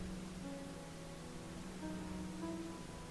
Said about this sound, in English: continue breathing gently with the pink noise